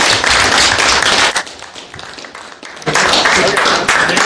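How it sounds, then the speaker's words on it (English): JROTC cadets at Prescott High School give a loud round of applause in a close, noisy burst that dips briefly in the middle before swelling again; a few voices mingle with the clapping. "All right, everybody give him a round of applause."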